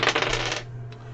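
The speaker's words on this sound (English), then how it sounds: "And here comes the dice roll for the Donruss filler." Dice rolling and clattering during a live trading card box break for a Donruss filler, a quick rattling burst that fades out after about half a second over a steady low hum.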